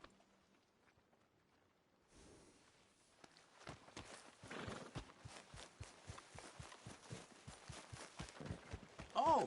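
Horse hooves from Red Dead Redemption 2 clop in a steady, rhythmic gait after a quiet start, close and moderately loud, growing busier toward the end.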